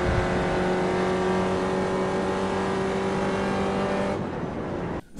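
An SRF race car engine drones steadily at Summit Point in iRacing, close and loud with a sustained tonal whine, then easing off and dropping briefly near the end.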